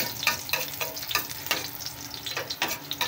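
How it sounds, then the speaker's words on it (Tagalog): Chopped garlic sizzles in hot oil in a pan, a continuous close crackle with rhythmic scraping stirs every half second or so, no voices over it. "Bawang muna yun ako, tapos pag mag-brown na, saka na natin isunod yung sibuyas"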